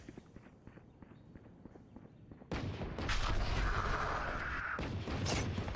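A flashbang grenade goes off in the Valorant match: a sudden loud burst over quiet footsteps, then a sustained bright ringing tone for about a second and a half before it cuts back to busy game noise.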